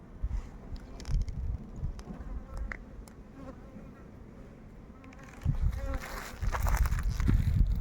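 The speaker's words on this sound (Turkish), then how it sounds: "Hatta şöyle bir arı da polen topluyordu." A honey bee collecting pollen at an apiary buzzes close by, its drone wavering in and out and growing louder toward the end, with soft outdoor background noise.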